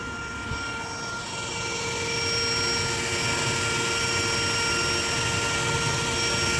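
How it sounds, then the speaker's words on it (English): Dense, steady buzzing of honeybee drones crowded in a hive box filled with drone brood, a continuous droning hum that swells slightly louder partway through and holds, close to the listener with no talking. "Would you look at the dadburn drones?"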